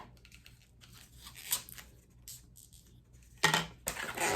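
Scissors snipping off the end of a balloon, a few close, soft cuts and rubbery rustles ending in a sharper burst of crinkling, with no talk.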